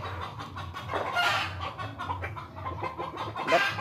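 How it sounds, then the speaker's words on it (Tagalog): A rural backyard chicken clucking in short, repeated bursts at close range, with a few louder squawks and faint background noise. "Manok."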